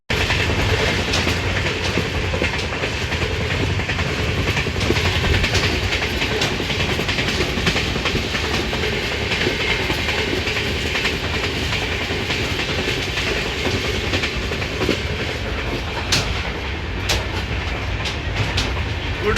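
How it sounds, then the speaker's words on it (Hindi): A passenger train from Meerut to Ujjain running at full speed, heard from inside the carriage as a steady loud rumble with rhythmic clickety-clack of wheels on the rails throughout. "ट्रेन पूरी कोशिश कर रही है अपनी फुल स्पीड में चलने की"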